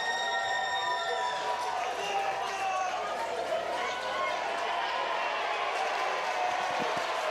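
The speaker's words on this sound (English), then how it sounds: "the applause comes from around the ground because the crowd have seen it the same" Crowd applause spreads around a rugby ground after a try at the Italy vs Wales women's Six Nations 2025 round five match, a broad sustained wash of clapping and cheering with a voice over it early on.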